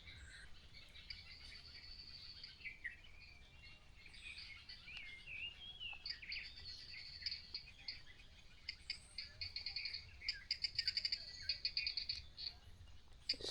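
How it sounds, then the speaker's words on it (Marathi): Birds twitter and chirp with insects trilling on a quiet village evening in the Konkan, faint and distant over a soft ambient hush, with calls growing busier and more clustered toward the end. "पाखरांचा किलबिलाट आणि या बाजूला इकडे बेडकांचा आवाज"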